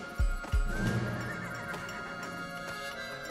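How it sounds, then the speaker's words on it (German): A horse neighs in the video game Desperados III, a loud, close whinny following two heavy hoof thuds, then a fading rumble of ambient noise. "Ich hasse Pferde, Billy"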